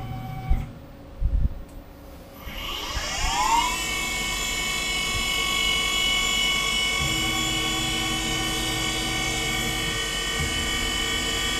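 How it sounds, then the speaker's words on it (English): A Tormach 1100 CNC mill spins up and drills a hole for a 10-32 screw with a 13/64 drill bit, giving a steady, loud, high whine that holds constant after a short ramp, following a few clicks. "we've wrote a small program that's going to go ahead and drill and then countersink for that a 1032 screw"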